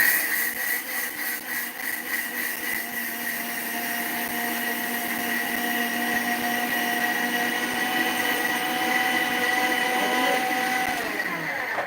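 A kitchen mixer grinder grinds a kilo of soaked rice, its motor holding a loud, steady, high whine for about twelve seconds with the grinding churn underneath and no voices.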